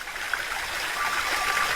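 River water flowing steadily, a continuous broadband rush with faint trickling detail, fairly distant and unbroken with no voices.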